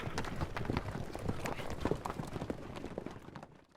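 Horse hooves clip-clop in a quick, steady rhythm of faint, close taps that fade away toward the end, with no talking.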